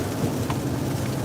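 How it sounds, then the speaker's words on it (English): Heavy rain pours down steadily as a dense, even outdoor hiss with low rumbling underneath and no voices. "It's raining like a mug right now. I don't know if y'all can hear it."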